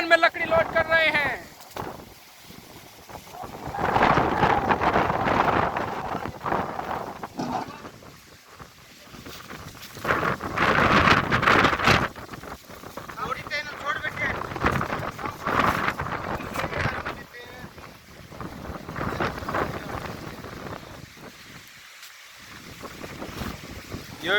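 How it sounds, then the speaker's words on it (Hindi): A strong storm roars with gusting wind and heavy rain while wood is loaded in the evening, the blustery noise rising and falling in waves as people talk over it. "ये देखिए कितना तेज तूफान आ चुका है।"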